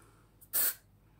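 A single short, close hiss of Lynx Java body spray from an aerosol can, a brief burst of about a quarter second in otherwise quiet surroundings.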